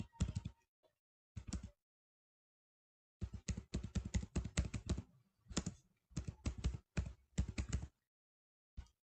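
Close, clear computer keyboard typing comes in fast bursts separated by brief silences while a visit date is entered, and no voices are heard.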